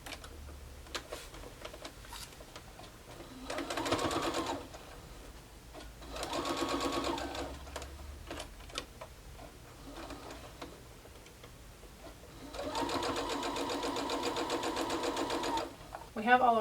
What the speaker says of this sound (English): So we're going to put right sides together and sew up these rows.